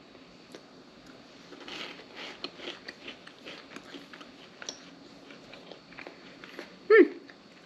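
Crunching of someone eating popcorn: scattered crisp bites and chews, fairly quiet and close, with one louder crunch near the end.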